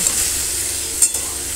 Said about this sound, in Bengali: তারপর আমি পুরোটাকে নাড়িয়ে চাড়িয়ে ভালো করে সমস্তটার সঙ্গে মিক্স করে ভেজে নেব